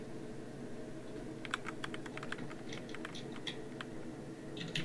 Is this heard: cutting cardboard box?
no